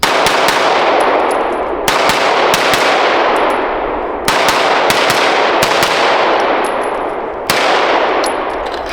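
A Springfield SA-35 pistol fires about six loud, sharp shots at uneven intervals, each followed by a long, bright ringing decay, with no talking.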